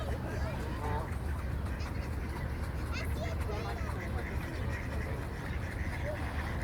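Ducks quack around a pond by a boardwalk on a nature walk, scattered calls at moderate distance mixed with outdoor background noise and people talking.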